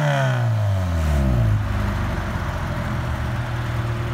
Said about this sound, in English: Phil, give me a few more revs, please.